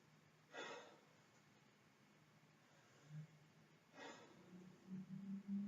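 A patient takes deep breaths during lung auscultation: two distinct, airy inhalations a few seconds apart, close and quiet, with faint low rustles between.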